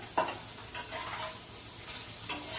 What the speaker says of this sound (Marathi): आता मी पनीर फ्राय करून घेतेय.